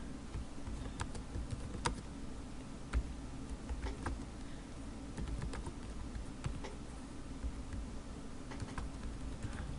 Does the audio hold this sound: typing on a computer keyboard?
yes